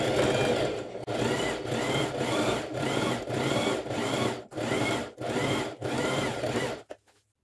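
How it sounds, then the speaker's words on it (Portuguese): A sewing machine stitches a straight seam across fabric for a triangle-pattern dish towel border, a close, steady mechanical whir broken into about eight short runs by brief pauses, then stopping. "Só passar uma costurinha reta aqui."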